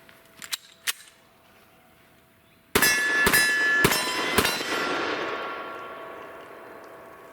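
Springfield XDM 3.8 10mm pistol fired outdoors, a few faint clicks followed by four loud, sharp gunshots in quick succession, each echoing and the last trailing off into a long fading reverberation.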